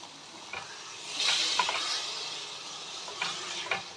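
Mustard greens paste cooking in a pan, Punjabi style, with soft sizzling and a few stirring scrapes, a louder hiss in the middle and brief crackles near the end.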